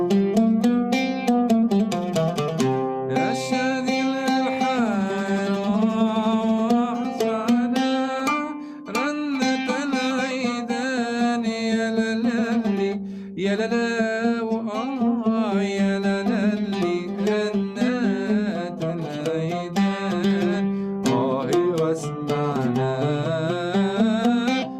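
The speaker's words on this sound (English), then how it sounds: "a Middle Eastern scale that's called rast, a maqam, sounds like this." An oud plays a Middle Eastern melody in maqam rast, with its quarter-tone intervals, as a steady, close and loud solo line of plucked notes and short runs lasting throughout, with no voices.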